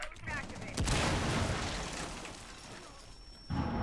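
Rainbow Six Siege gunfire during a competitive esports match, a sharp burst of shots followed by a dense, loud rumble that fades before another abrupt blast near the end.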